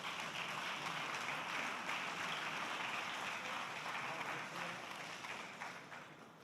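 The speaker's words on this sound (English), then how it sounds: "An applause for our special guests." Applause for special guests at a round-table session of a digital forum in Lucca, a dense, steady wash of many hands clapping that holds at a loud level and begins to fade near the end.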